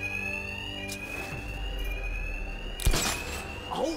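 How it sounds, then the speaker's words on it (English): Steady electronic bank alarm in Batman: Arkham Knight rings throughout at a constant pitch, with a few brief thumps and clatters from in-game action breaking in midway. "My attacks will be covered by the noise of the alarm."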